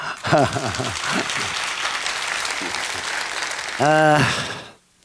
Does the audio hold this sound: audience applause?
yes